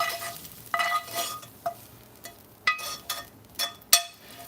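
Spoon stirring meat sizzling in a new pan for a casserole frittata, a steady soft sizzle broken by several sharp metallic scrapes and clinks at uneven intervals, close, with no talking.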